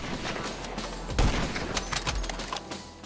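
Video game gunfire, a dense rattle of shots with a heavy thump near the middle, loud and continuous.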